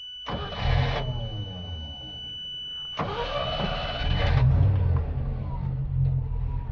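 An ex-New Zealand Army Land Rover Stage One V8 cranks and fires, with a warning beep sounding at the start, two bursts of starter and engine noise, then a rough low rumble as it settles.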